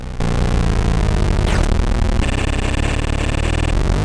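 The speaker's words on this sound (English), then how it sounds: "It's the sound of my opponent's car hitting a landmine." A harsh, noisy burst of retro Commodore 64 game sound from Racing Destruction Set as a car hits a landmine, a loud crackling blast with buzzing engine-like tones and a sweeping electronic zap.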